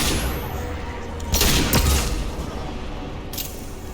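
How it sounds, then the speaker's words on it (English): Flashbang grenades going off in the video game Mass Effect 2, a dense loud burst of blasts and crackling over constant battle noise, with two sharper hits close together in the middle and a fainter one near the end. "watch out, flashbangs!"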